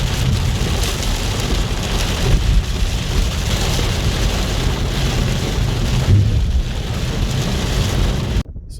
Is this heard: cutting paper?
no